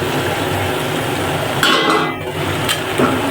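Meat and potatoes being stir-fried together in a pan, with a continuous sizzle under scraping and clattering of a utensil against the pan, close and fairly loud, with no talking.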